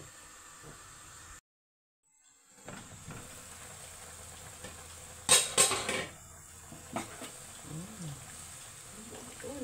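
A metal lid is set onto a pot of simmering Filipino beef nilaga (nilagang baka) in a home kitchen. It lands with a couple of sharp clanks in the middle, after a quiet stretch and among soft kitchen clatter.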